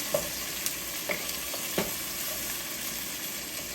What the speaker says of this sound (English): you want to stir fry the onion until it's you can smell the fragrance of onion